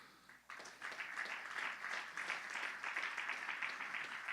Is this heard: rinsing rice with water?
no